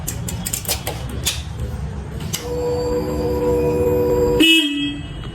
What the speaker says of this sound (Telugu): ఇప్పుడైతే ఒకసారి హార్న్ చెక్ చేసిద్దాం